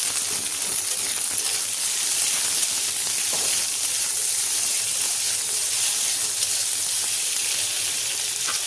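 Onion and potato fry in a pan, giving a steady, loud sizzle with a constant hiss and no break throughout.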